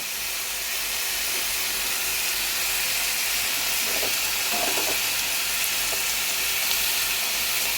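Onions and potatoes sizzle in hot oil with salt and turmeric, a steady, loud frying hiss close up, with a few faint clinks of utensils partway through and no talking.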